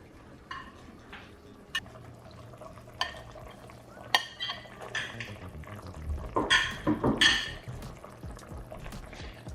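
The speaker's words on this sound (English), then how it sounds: "So now we're going to add the chili peppers." Chili peppers are dropped and stirred into a pot of boiled potatoes, making scattered clinks, wet splashes and scraping, then a busier burst of stirring and sloshing near the end, close up with no speech.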